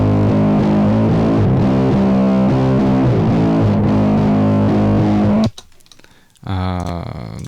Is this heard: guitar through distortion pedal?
yes